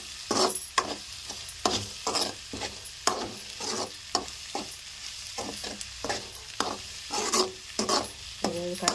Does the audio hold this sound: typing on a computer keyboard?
no